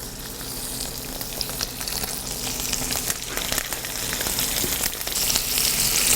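Chicken breast skin frying in oil over low heat, with a steady close sizzle and crackle that holds even and continuous throughout, no voices.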